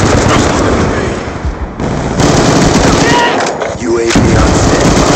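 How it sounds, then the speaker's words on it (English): Intense gunfire and explosive blasts from a Hellstorm missile strike in Black Ops II fill the scene, loud and continuous, with a brief dip before the barrage resumes and game announcer voices cut through. "Hellstorm missile inbound"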